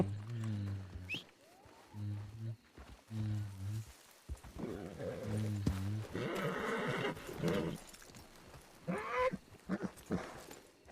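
A horse whinnies repeatedly amid video game sound effects in Red Dead roleplay, with hoofbeats clopping and a voice briefly speaking between the neighs.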